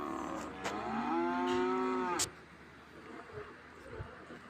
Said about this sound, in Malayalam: നല്ല പോത്തും കുട്ടികളാണ്.